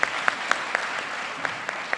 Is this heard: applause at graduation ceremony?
yes